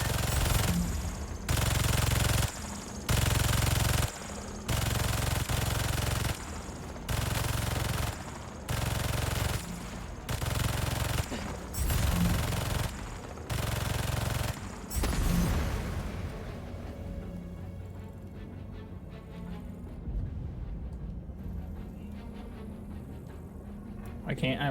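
Rapid bursts of turret gunfire in the Spider-Man 2 video game hammer away in loud, evenly spaced volleys for about fifteen seconds, then cut off, leaving a low rumbling ambience and faint game sounds.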